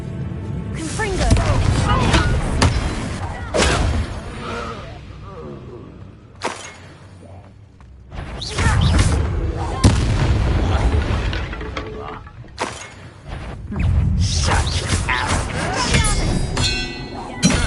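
Repeated blasting spell explosions in Hogwarts Legacy give booming thuds and bursts in several loud waves, separated by brief quieter gaps, with game sounds around them.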